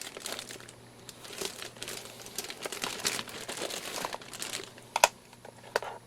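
A package is unpacked from a Ziploc plastic bag, with close, continuous crinkling and rustling of plastic and a few sharper crackles toward the end.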